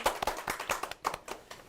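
A small studio audience claps for two guests on a live Korean talk show, a brief, uneven patter of hands at moderate volume with a few sharper individual claps.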